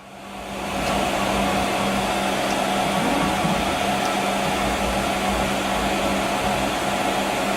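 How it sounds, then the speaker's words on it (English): A CNC machine spindle spins up and runs with a steady, loud whirring hum and a constant airy hiss, close by and without talk. "Turn your spindle on."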